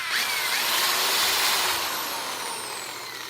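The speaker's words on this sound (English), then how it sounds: "Drill the pilot holes." Power drill boring pilot holes into a wooden stretcher frame, a steady loud whirring buzz that holds for about two seconds then eases slightly as it winds down, with no talking.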